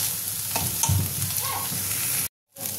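Dried lote fish (shutki) frying in a little oil in a pan, a steady close sizzle with occasional stirring scrapes, cutting off abruptly into silence near the end before resuming faintly.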